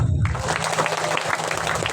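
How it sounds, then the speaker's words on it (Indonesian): A crowd at a community gathering in Register 45, Mesuji, breaks into brief, dense applause that sounds close and loud, following a short spoken introduction. "Tepuk tangan."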